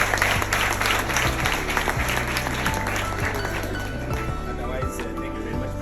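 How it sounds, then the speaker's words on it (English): An audience of students at a school event in Goromonzi applauds steadily, dense clapping with a few clinks, over a low humming drone and some voices in the background. "Let's give her another round of applause"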